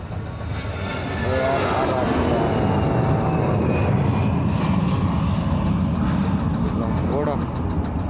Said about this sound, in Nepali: अर्को एउटा प्लेन उड्न आँटेको